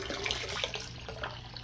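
Water rushes steadily from a garden hose in a kitchen during an aquarium water change as built-up pressure releases after the sink tap is shut off, a close continuous hiss and splash with no talking.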